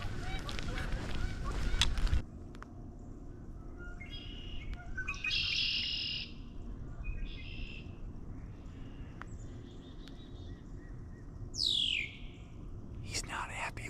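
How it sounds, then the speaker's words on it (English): Geese, ducks, blackbirds and jays call with chirps and honking cries sporadically in an open outdoor space near a quarry on the Illinois & Michigan Canal, over a constant low rumble of distant machinery. "you hear geese and ducks and blackbirds and jays."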